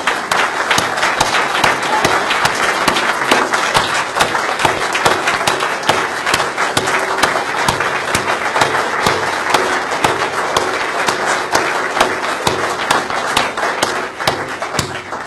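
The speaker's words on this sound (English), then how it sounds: "Will you please join me in applause for the staff of volunteers" A conference audience gives loud, dense applause for staff and volunteers, with sharp individual claps and crowd noise running steadily throughout and no speech.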